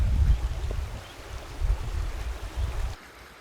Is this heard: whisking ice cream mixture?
no